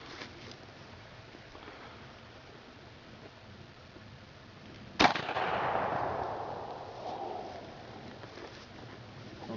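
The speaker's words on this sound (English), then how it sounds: "I'm gonna shoot this one a little bit high" A single loud gunshot fired at a target cracks sharply out of a quiet outdoor background, followed by a brief rumbling decay.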